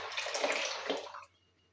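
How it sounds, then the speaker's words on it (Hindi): About half a litre of water is poured into lassi in a village kitchen, making a close, steady splashing gush that stops abruptly after about a second. "तो साथ साथ इसमें ऐड 1/2 लीटर जो है इसमें पानी ऐड कर देंगे।"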